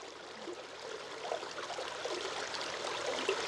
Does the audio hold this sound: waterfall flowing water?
yes